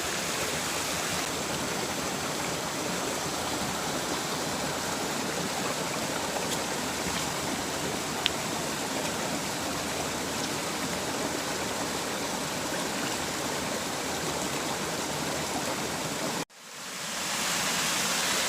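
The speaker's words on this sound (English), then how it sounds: "A little waterfall there." A small waterfall on a forest creek rushes in a steady, full, hissing wash of water at close range, unbroken throughout, then cuts off abruptly near the end before fading back in.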